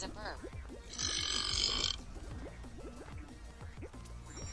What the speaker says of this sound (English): Play a burp sound.